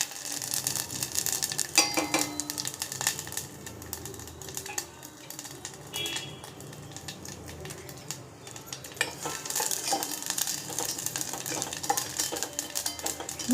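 Mustard seeds, cumin, asafoetida, fenugreek and dried chillies sizzle in hot oil, a soft steady crackle with scattered pops and occasional spoon scrapes against the pan.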